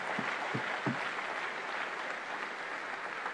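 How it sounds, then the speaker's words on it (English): A church congregation claps steadily to welcome the Second Lady of Kenya, a continuous even wash of applause heard at a moderate distance, with a few low thumps near the start. "Let's appreciate her. Keep clapping"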